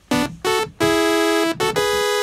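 Brass-type patch on a Studiologic Sledge synthesizer built from sawtooth oscillators, played as four sustained harmonically rich notes of varying length with short gaps, loud and close with no talk.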